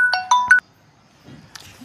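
A mobile phone ringtone for an incoming call plays a few bright, chiming electronic notes in quick succession, then cuts off into near silence before a faint rustle.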